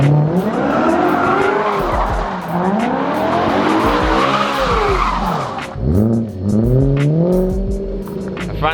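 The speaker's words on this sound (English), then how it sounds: "Finally completed the donut in my car after a number of tries." A BMW M3 spins donuts, its tires squealing loudly and continuously with wavering pitch over a revving engine, briefly easing near the end before screeching again.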